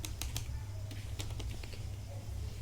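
Computer keyboard keys clicking in quick, uneven bursts, close and fairly quiet over a steady low hum, with a few pauses between taps.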